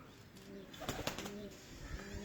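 Pigeons coo softly in low, repeated murmurs, with faint rustling and small knocks between calls.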